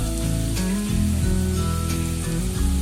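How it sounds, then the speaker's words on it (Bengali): Ridge gourd sizzles steadily in hot oil while making upma, a continuous close frying hiss that stays even for the whole short stretch. "ঝিঙে দিয়ে দিলাম"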